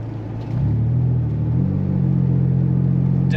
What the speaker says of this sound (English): Definitely growly, nice sounding exhaust